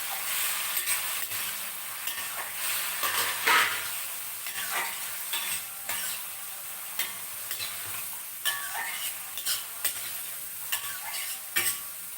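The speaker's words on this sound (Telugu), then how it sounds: "టమాటోస్ బాగా వేయించాలి" About five large tomatoes frying over high heat in a pan, a constant sizzle broken by repeated scraping stirs of a spoon against the pan, close and clear with no talking.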